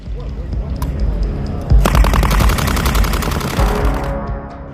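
Machine gun fire during a U.S. Army test exercise, a loud rapid burst of closely spaced shots lasting a couple of seconds, preceded and followed by scattered distant gunfire.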